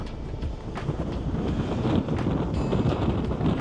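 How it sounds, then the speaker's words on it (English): Cold, raw wind blusters over sea cliffs with big swells below, a loud rumbling roar buffeting the microphone steadily, with no speech. "It's a very lazy wind, one of those that's going to go straight through you and not around you."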